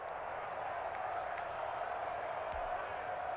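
Steady roar of a stadium crowd in the Madden NFL 21 football video game, a dense, even wash of cheering at constant level with faint scattered whoops, under soft talk.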